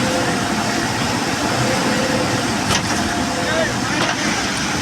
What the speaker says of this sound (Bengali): এই যে জিসিবি জোর লাগাচ্ছে, হ্যাঁ ড্রাইভার গিয়ার লাগাচ্ছে